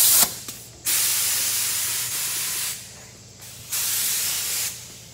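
A spray gun lays a light tack coat of Awlgrip paint, heard as close, loud bursts of airy hiss in separate passes with short quiet gaps between, and no talking.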